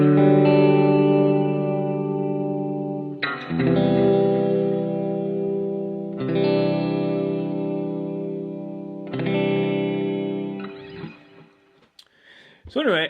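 An electric guitar played through a clean patch with digital delay and hall reverb in an iPad effects rack: sustained chords struck about every three seconds, ringing out with echoing tails, ending in a brief scratchy noise.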